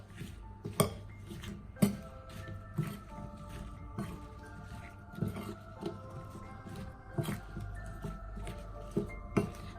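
Okra being mixed by hand with lemon juice, red chili powder and spices in a bowl, giving soft squishy stirring with repeated light clinks and knocks against the bowl in a steady irregular rhythm, close up and without talk.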